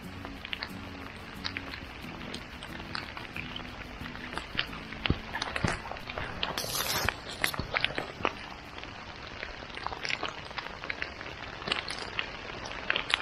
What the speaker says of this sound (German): Es regnet momentan sehr, sehr viel.